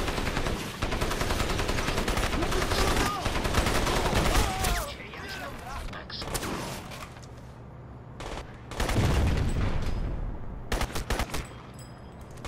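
Rapid automatic gunfire with incendiary bullets in the video game Crysis, loud bursts of rattling shots in two long volleys with short sharp bursts near the end, over game ambience.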